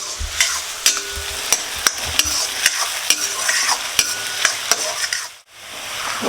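Onions sizzle steadily in a pan while a spatula stirs and taps against the metal in regular sharp knocks, close and fairly loud, with a brief pause near the end.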